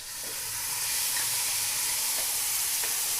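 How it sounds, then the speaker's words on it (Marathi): Onion, coconut and garlic masala frying in a pan with curry leaves, giving a steady, close hiss and sizzle that holds evenly throughout with a few faint crackles. "मसाला छानपैकी तळून घ्यायचा."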